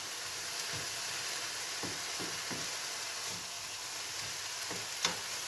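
Seasoned food sizzles in a hot pan as it is tossed and stirred, a steady soft fry with a few brief scraping knocks and one sharp click near the end, no voices.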